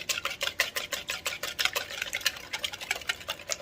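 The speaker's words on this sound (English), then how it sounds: "whisk these up real quick" A whisk beats ingredients for a walnut maple pie, rapid rhythmic clicking strokes against a bowl, close and fairly steady with short pauses.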